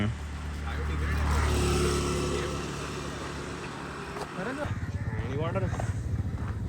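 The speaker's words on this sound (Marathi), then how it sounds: "एक गाडी येते." A vehicle approaches on a road near Vasai Fort, its engine rumble swelling and then holding steady while several people talk loudly over it.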